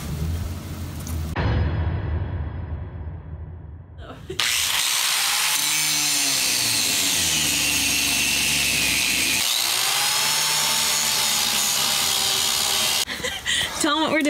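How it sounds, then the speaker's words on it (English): A power tool whines and grinds loudly while plywood flooring is ripped up inside a bus, a sustained harsh mechanical roar with pitch swings, preceded by scraping and clattering, and people talk at moments. "We're ripping up more plywood and it's the worst."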